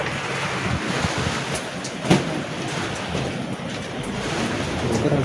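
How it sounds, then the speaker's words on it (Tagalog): Strong typhoon wind roars steadily and loudly, a dense broadband rush with one brief gust peak, buffeting the microphone throughout with no speech. "Grabe, oh, rinig yung tunog ng hangin."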